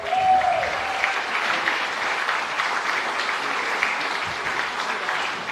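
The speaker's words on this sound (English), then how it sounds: "Put your hands together for him." Steady applause fills a room at a football club's awards night. A large audience claps continuously, loud and even throughout, with a faint voice briefly audible at the start.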